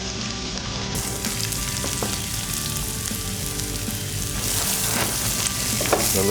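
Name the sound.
onion sautéing in oil with cumin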